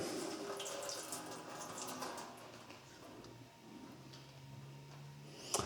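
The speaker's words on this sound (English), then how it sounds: "we just take the excess solvent and pour across the tape" Water-soluble grip solvent is poured over tape on a golf club shaft during a grip replacement, producing a continuous soft splashing trickle that fades slightly toward the end.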